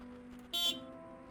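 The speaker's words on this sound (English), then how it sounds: "I honked to get his attention." A car horn gives one short honk in the Neo Cab driving game, faint and alone.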